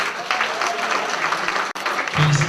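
A gala audience at a lycée applauds an award winner, producing dense, continuous clapping that breaks off for an instant, then resumes with a faint tone near the end.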